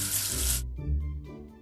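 Water rinses soap off a letter in a children's alphabet game, a short loud tap-like splash that stops abruptly, followed by soft music.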